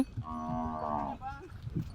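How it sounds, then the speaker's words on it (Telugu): Desi cows in a village herd being taken out to graze, one clear drawn-out moo followed by a shorter second call, close and fairly quiet, with no talking. "ఈ విధంగా అయితే ఆవులు ఉన్నాయి"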